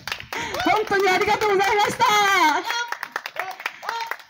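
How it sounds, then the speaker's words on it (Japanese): An outdoor street live performance crowd at Hanbei Square in front of Tarui Station, Fuwa District, applauds: steady clapping runs under someone speaking throughout, then thins into scattered individual claps. "うちの親分に拍手"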